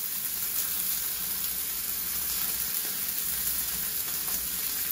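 Peppercorn bacon frying in a pan for a bacon, egg and cheese sandwich, giving a steady, even sizzle with soft crackle that holds at an unchanging level from start to finish, with no voices.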